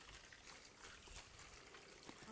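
A thin, faint trickle of murky water running from a hose, a soft continuous dribble with no talk over it.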